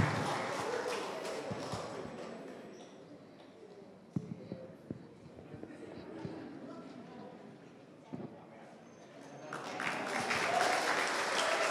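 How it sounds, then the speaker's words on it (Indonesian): Church congregation applauding during an anniversary worship celebration, moderately loud clapping that fades to scattered claps and thuds in the middle, then swells again strongly toward the end, with some voices around it. "Tepuk tangan Bapak Ibu."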